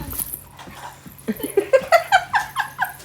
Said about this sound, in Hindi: देखो डॉगी